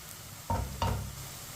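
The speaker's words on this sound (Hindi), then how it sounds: "अब इसे भी 2 मिनट के लिए पका लेंगे चम्मच चलाते हुए।" Two short bursts of sizzling and scraping as ginger and garlic are stirred in a hot pan, over a steady low background hiss.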